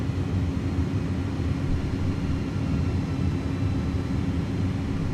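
An iniBuilds A300F cargo airliner in a flight simulator gives a loud, steady, broad engine roar and rumble as it comes in to land, with no talking over it.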